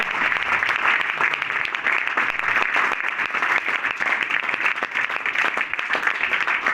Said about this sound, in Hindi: यीशु के लिए हम तालियां बजाएं